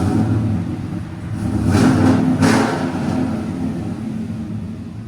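Cammed Chevy/GMC 5.3L V8 with headers revs up once to a swelling roar and drops back to a rumbling idle, loud and close with no one talking.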